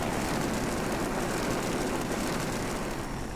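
An I-250 fighter's aircraft engine in the World of Warplanes video game gives a steady, loud propeller drone that holds a constant roar throughout, with no talking.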